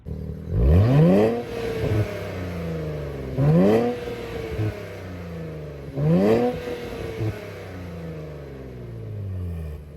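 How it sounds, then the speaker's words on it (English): A stock 2023 Nissan Z sports car engine revs sharply three times with a pause between each, surging up and falling back to a low rumbling idle. "So I think it sounds pretty good in stock configuration, at least just revving at idle there."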